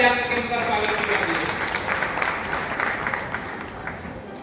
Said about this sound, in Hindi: मैं आपसे आग्रह करता हूं कि जोरदार तालियां बजाकर उनका स्वागत कीजिए